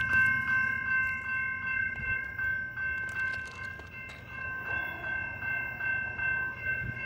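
A Norfolk Southern 8180 locomotive leads a tanker train through Sinking Spring, Pennsylvania, sounding a P5 horn. The loud, sustained multi-note horn chord rings over the rolling rumble and rhythmic clatter of the passing train.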